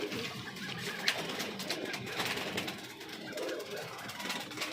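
Madras pigeons coo softly in a loft, their low murmuring calls faint amid broad background noise and occasional voices.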